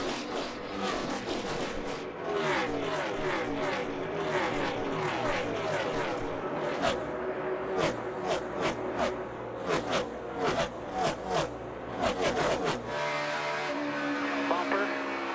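NASCAR race car engines roar and whine past during the 2017 Kobalt Tools 400, with a dense mix of engine noise, crowd sound and faint radio-like voices underneath.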